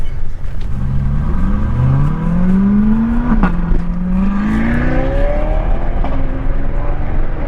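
Large-displacement car engine climbing steadily in pitch as it accelerates on a road near Malibu, loud and close, with a brief gear shift partway through before the revs keep rising.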